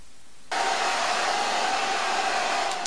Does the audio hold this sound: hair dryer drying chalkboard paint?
yes